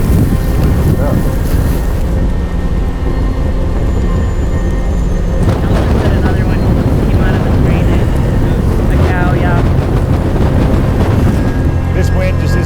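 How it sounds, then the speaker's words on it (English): Strong wind on a Montana mountainside roars and buffets the microphone loudly and continuously, swelling in gusts, with voices faintly present beneath the blasts. "It's this wind."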